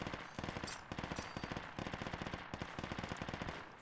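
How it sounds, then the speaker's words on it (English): Sustained machine gun fire in the military shooter game Project Reality, rapid bursts of automatic shots repeating in a steady chattering rhythm across the whole stretch, loud and close with no talking. "There's an MG south"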